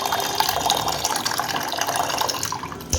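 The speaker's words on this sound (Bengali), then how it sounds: "এবার পরিমাণ মতন জল দিয়ে ডালটাকে সিদ্ধ হতে দেব।" Water poured into washed moong dal in a pot before boiling, a loud steady gushing splash that runs nearly continuously and then tapers off near the end, with no voices.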